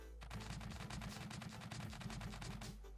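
A cannon in a video game fires rapidly in a dense, continuous burst of blasts with a heavy low rumble underneath, close and sustained for a few seconds.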